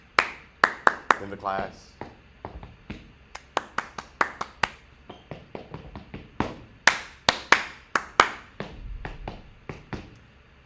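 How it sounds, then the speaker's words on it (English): Hands clap a rhythmic call-and-response pattern of the kind a teacher uses to get a class's attention, crisp close claps in grouped bursts, with a short spoken phrase slipped in near the start. "they start clapping and the class is supposed to respond"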